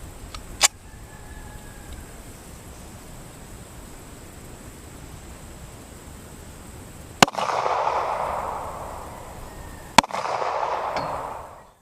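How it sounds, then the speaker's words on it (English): .45 ACP 200-grain jacketed hollow points fired from a full-size 1911 pistol into a one-inch polyurea slab, three sharp loud outdoor shots, the later two followed by a broad rushing noise, no talk. "so just shot the 45 ACP jacketed hollow point"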